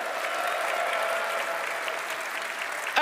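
Sustained applause from a large audience in the Royal Albert Hall during the Red Bull Wololo Londinium grand finals; a dense, steady roar of clapping holds at full strength for the whole stretch.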